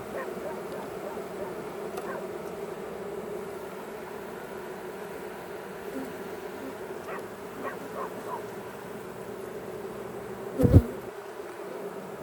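Agitated honeybees buzz steadily at close range in a low, continuous drone while a hive is opened for inspection, with one brief sharp knock near the end.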